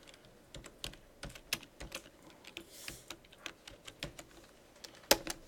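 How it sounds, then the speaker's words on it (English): Typing on a computer keyboard in a programming interpreter, with irregular clicking keystrokes at a moderate pace and one sharper key hit near the end, fairly quiet and close. "I'm actually in the interpreter typing this."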